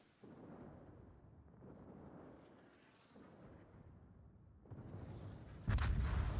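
Warship guns fire in World of Warships naval combat, heard as low rumbling booms and rolling artillery blasts, with a sharper, louder salvo crashing in near the end.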